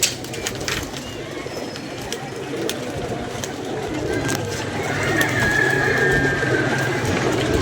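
Pigeons from a flock kept for pigeon flying coo repeatedly in soft, throaty bursts, with wing flutters and faint background noise that swells slightly toward the end.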